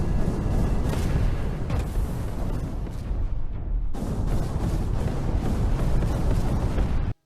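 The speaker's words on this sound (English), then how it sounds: "The explosion sounds when you hit or get hit with rockets are properly boomy." Rocket explosions in the VR mech game Iron Rebellion, loud and boomy, with dense rumbling blasts filling the whole stretch and a brief sudden cut before a fresh blast resumes the roar.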